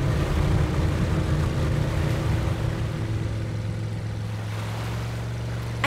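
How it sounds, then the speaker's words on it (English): Strong ocean waves surge and crash near rocks in a cartoon rescue scene, a dense, steady roar of surf with a heavy low rumble that stays loud throughout, with no voices. "The waves are too strong."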